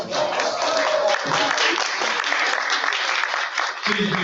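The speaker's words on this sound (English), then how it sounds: "Give yourselves a round of applause." Audience at a Cottage City and Colmar Manor Black History Month celebration applauding, dense sustained clapping that fills the room loudly, with a few voices mixed in underneath.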